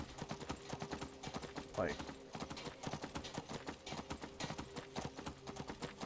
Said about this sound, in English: I ride a horse through town